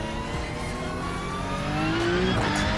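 A Porsche 992.2 engine in a racing video game gives a steady, moderately quiet drone whose pitch climbs toward the end, as if accelerating.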